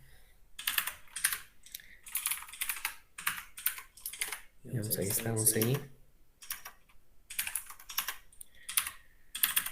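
Someone speaks in bursts while keys clatter between his phrases, with a short stretch of louder mid-range noise in the middle.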